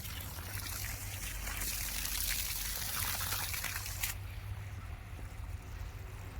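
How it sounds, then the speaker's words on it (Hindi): Water runs through irrigated farm fields with a steady trickling, pouring wash, close and continuous, with a brighter splashy stretch in the middle. "अभी खेतों में पानी भी चल रहा है।"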